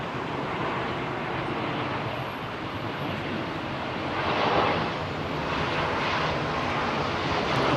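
A Singapore Airlines airliner arriving at London Heathrow on final approach in a slight crosswind, heard as a steady, distant jet engine roar that swells gently midway through.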